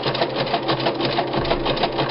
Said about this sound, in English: my machine's going to do all the work